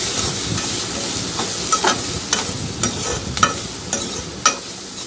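Bitter gourd and chili being stirred in a hot frying pan, a steady sizzle with scattered scraping clinks of the spoon against the pan at an irregular rhythm, close and moderately loud, no talking.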